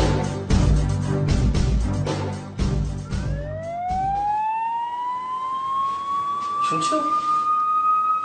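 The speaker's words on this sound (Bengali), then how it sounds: "সাইরেন সাইরেন বাজছে, পুলিশের সাইরেন" A police siren rises into a long, steady wail that carries loudly over a scene of people talking, with a brief second tone near the end.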